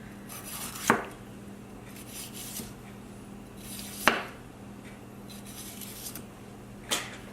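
A knife works through a fresh jalapeno pepper on a cutting board, trimming out the white ribs with three distinct scraping cuts spaced a few seconds apart over a low steady background hum.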